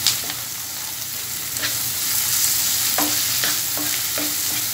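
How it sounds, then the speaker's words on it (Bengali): Onions and ground spices, including coriander powder, fry in a pan for a beef tripe dish, with a bright continuous sizzle and regular spoon strokes scraping the pan throughout, close and fairly loud. "পেঁয়াজের সাথে সবগুলো মশলা ভালো করে মিশিয়ে নিচ্ছি।"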